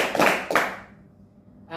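Two quick bursts of hand claps from a group in a classroom clapping game, a pair of sharp claps then a second pair, fading to quiet room tone with a faint sound at the end.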